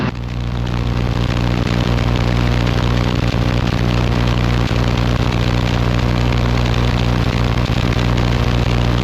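Steady, loud helicopter engine and rotor drone during a departure in a power-recovery autorotation training flight, a constant low hum holding level throughout with no talk.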